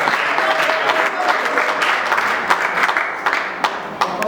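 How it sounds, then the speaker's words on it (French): Guests at a traditional customary wedding break into sustained, dense applause with scattered cheers, a lively crowd clapping close by for several seconds. "Merci, nous acclamons, nous acclamons"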